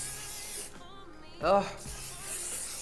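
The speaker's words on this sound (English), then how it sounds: "I'm going to hold my breath and spray it" A short hiss of makeup setting spray bursts from a bottle, then a second spray follows after a brief pause. The sounds are close and clear, with a quick voice exclamation in the middle.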